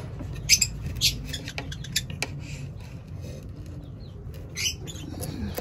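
A lovebird bursts out of a nest box with a few quick flurries of wing flaps, close and sharp, separated by quieter scratchy movement and faint chirps, with no talking.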